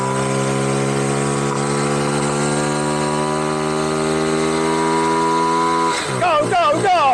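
Honda Cub small motorbike engine droning steadily while ridden along, its harmonic hum holding a constant pitch under a sticky throttle, then shifting and wavering near the end as a voice cuts in.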